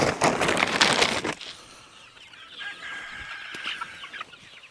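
Chickens clucking close by in a pen, a loud burst of flapping and squawks at first, then softer scattered clucks and calls.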